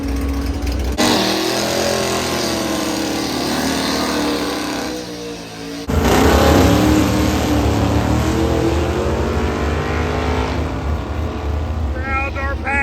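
Cars at the Tri-Five Nationals show at Beechbend Raceway rumble and rev loudly nearby, one engine cutting in abruptly and roaring over crowd noise and occasional talk.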